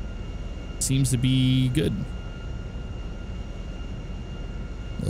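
HA-420 HondaJet jet engine in GTA 5 while landing, a steady whooshing engine drone throughout with a brief louder tonal burst of speech over it early on.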